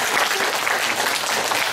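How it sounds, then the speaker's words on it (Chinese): Steady, dense audience applause at an art exhibition opening for a four-person painting show, a continuous wash of clapping hands filling the whole short moment without pause. "给大家一个掌声，好不好？"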